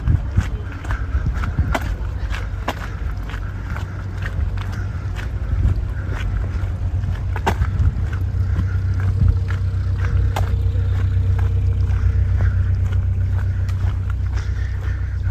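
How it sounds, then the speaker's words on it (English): A canal boat's low diesel engine chugs steadily nearby and slowly grows louder as the boat passes along the Grand Union Canal, with scattered clicks and knocks over the hum. "And another canal boat."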